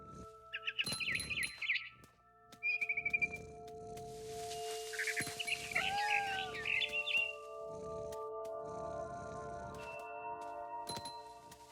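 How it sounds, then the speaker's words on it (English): Barn swallow chirping inside the video game What Remains of Edith Finch: scattered high chirps and tweets over a soft tonal game ambience with ringing chime-like tones, no talk. "Then I heard chirping outside my window. It was a barn swallow going back to her nest."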